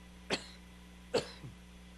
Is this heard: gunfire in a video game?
no